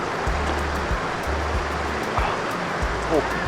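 Clear glacial river water flows near Mostar, Bosnia, a steady rushing, babbling wash close by, with low rumbling bursts over it.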